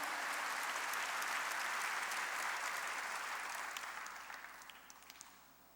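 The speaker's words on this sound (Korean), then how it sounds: "박수로 하나님께 영광 돌려야 돼" A church congregation claps during a worship service, a broad steady wash of applause that holds strong and then fades out toward the end.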